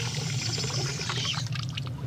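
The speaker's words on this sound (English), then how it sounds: "That's city water." City tap water pours in a steady, continuous rush, close and fairly loud and running alone for the whole stretch.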